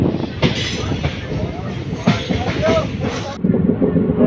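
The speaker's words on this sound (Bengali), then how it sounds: "তো দেওয়ানহাট থেকে ছেড়ে এখন ট্রেন আমাদের যাচ্ছে" A passenger train pulls away from Dewanhat railway station toward Dinhata, heard from on board as a close rumble with rhythmic rail clatter and wheel knocks, with voices faintly mixed in.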